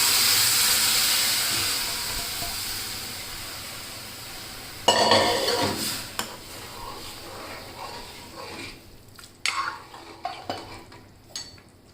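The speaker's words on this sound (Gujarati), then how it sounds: "હવે આપણે બાફેલી ચણા દાળ અને દૂધી એમાં નાખી દઈશું" Boiled chana dal and bottle gourd drop into a hot pan with a loud hiss that settles into softer sizzling, followed by scraping spoon stirs and clinks against the metal pan.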